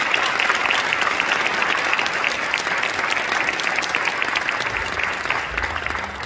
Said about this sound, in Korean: 우리 목사님 나오실 때 뜨겁게 박수로 환영해 주십시오.